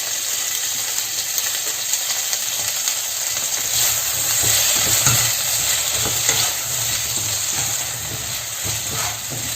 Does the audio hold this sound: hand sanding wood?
no